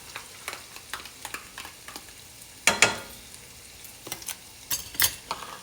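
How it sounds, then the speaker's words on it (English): Shallots, red onions and garlic frying in a pan, a steady close sizzle with frequent scraping stirs and a few louder clattering scrapes midway. "I'm gonna add those shallots in. I'm gonna go ahead and add our red onions in"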